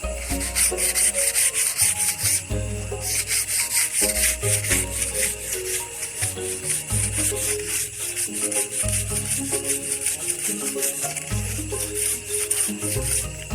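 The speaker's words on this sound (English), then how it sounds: "so now I want to sand it. This is really good sanding paper." Sandpaper rubs back and forth over bamboo in steady, rapid strokes, close and loud, with a gritty rasp throughout and no talking.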